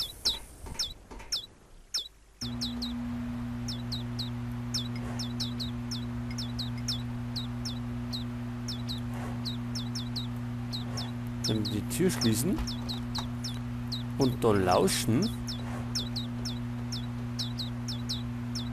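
Loud bird chicks outside a window chirp in rapid, high, repeated peeps throughout, over a steady low hum, while a person talks briefly early on.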